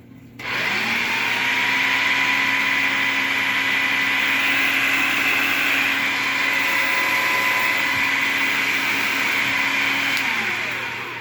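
A loud, steady motorized whirring from a food processor running continuously for several seconds, then winding down near the end, with no talking.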